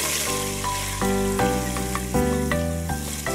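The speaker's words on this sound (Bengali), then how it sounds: "পেঁয়াজের যে কাঁচা গন্ধটা থাকবে এটা যাতে চলে যায় সেই জন্য আমি এটা কিছু ভেজে নিচ্ছি" Two tablespoons of onion paste fry in a pan and are stirred, giving a steady, close sizzle with stepped tonal notes running over it throughout, no speech.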